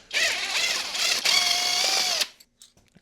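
A power tool whirs in two loud, close bursts of around a second each while loosening bolts on a BMW N55 engine, followed by a few faint clicks and metallic handling sounds.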